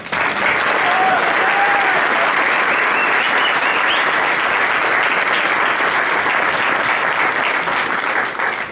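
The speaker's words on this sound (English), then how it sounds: "big round of applause for Tom Farrell." An audience at a boxing press conference applauds steadily, a dense and sustained clapping that stays loud and close for the whole stretch, with faint crowd murmur underneath.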